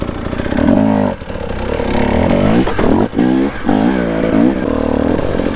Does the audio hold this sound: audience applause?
no